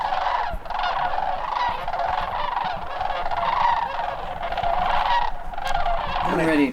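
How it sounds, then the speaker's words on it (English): Sandhill cranes calling in a large flock of a few thousand birds, a continuous overlapping chorus of rattling, bugling calls at moderate distance, steady throughout with a brief sharper call near the end. "And we saw a few thousand cranes. Sandhill cranes. Oh, they make the neatest noise."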